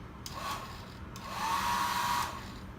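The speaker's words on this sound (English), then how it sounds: "hair blower, of course. Yeah, is this on?" A hair dryer in a room at the St. Giles Hotel in Makati runs as a steady, close, breathy whoosh that swells in strength partway through.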